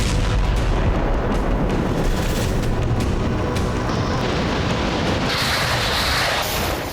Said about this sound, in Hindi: देखिए किस तरह धमाके के बाद एक बड़ी शॉकवेव निकल रही है।